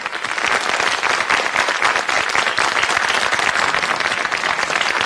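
An audience applauds a radio programme coordinator at a 1990 commemorative gathering, a dense, steady patter of many hands clapping close by and sustained for several seconds.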